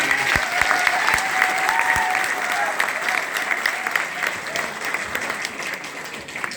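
Loud applause from a seminar audience at an on-stage crypto coin promotion event in Chandigarh, dense steady clapping filling the hall throughout, with a few sharper low thumps near the start and some voices mixed in.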